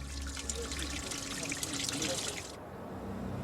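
Water trickling through an Inca stone channel at Machu Picchu, a soft continuous dribble and splash that stays fairly faint before easing off, with no one speaking.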